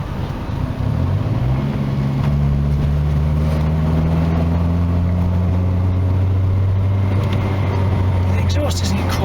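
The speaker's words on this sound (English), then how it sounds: "Exhaust isn't the quietest anyway, it's pretty much just an open back box on this" A Nissan with an open rear exhaust box drones loudly and steadily while driving, and its engine note rises gradually as it pulls along.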